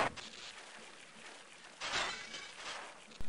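Metal grate being smashed in a video game, heard as repeated harsh crashing and shattering hits in separate bursts, loudest around the middle and at the very end, with no talking.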